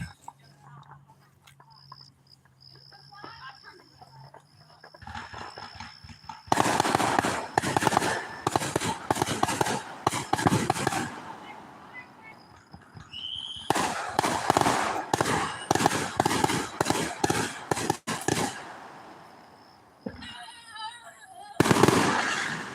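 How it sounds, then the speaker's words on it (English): Fireworks bursting over a park, with quiet stretches and faint whispery voices, then dense volleys of loud cracks and booms, a pause, another long barrage, and a final burst near the end. "Now those are some monster fireworks right there."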